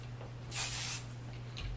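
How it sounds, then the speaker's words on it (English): Hairspray from an aerosol can hisses onto curled beach-wave hair in one short, close burst of about half a second, with a faint second puff near the end and a steady low hum underneath. "Hairspray on this side."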